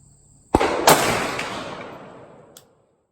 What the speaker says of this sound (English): Let's just put one on a rock out there.